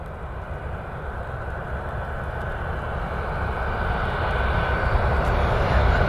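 Airplane engine roar departing from runway 6 right at Cleveland Hopkins in heavy rain during Hurricane Nicole, a broad, steady rumble that slowly swells louder over rain noise.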